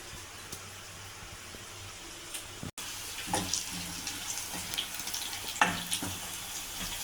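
Dal tempering fries and sizzles in a pan, a steady crackling hiss with scattered sharper pops and a brief louder burst toward the end, close by with no talk.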